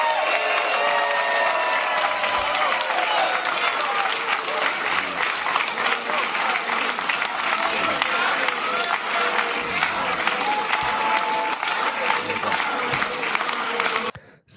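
A large gathered crowd applauds steadily and enthusiastically after a Canadian political platform speech, dense continuous clapping mixed with some cheering that holds for about fourteen seconds before cutting off abruptly.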